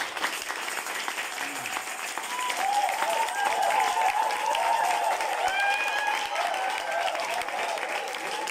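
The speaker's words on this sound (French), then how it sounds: "Applaudissez très fort pour vous" A crowd applauds, the clapping swelling to a loud, sustained ovation and holding steady, with a few faint voices mixed in.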